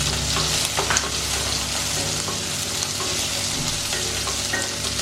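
Curry leaves, slit green chilies and diced onion sizzling in hot oil, a loud crackling fry close up with spatula stirring scrapes and brief pops, no voices.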